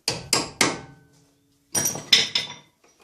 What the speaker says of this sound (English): Get your little clip and beat that in place.